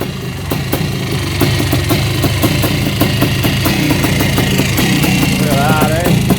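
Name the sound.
Yamaha YZ490 dirt bike engine idling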